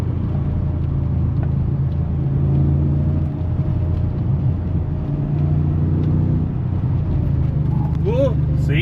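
A Mitsubishi Starion with a swapped 1UZ-FE V8, driving, gives a steady low engine rumble from inside the cabin with slight swells in revs, and a voice speaks over it near the end.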